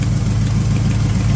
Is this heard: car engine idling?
yes